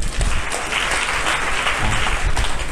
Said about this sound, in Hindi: हाँ, इनके लिए ताली बजाओ।